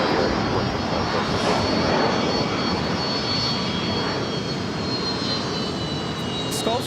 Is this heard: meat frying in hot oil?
no